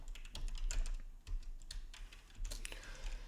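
Fingers type Python code on a computer keyboard in fast, close bursts of key clicks with short pauses between them, and no one speaks.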